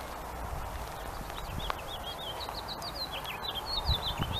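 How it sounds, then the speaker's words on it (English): Small birds chirp in quick, repeated calls outdoors while footsteps crunch along beneath them, fairly close and steady. "It's probably the birds from my house following me around wanting food."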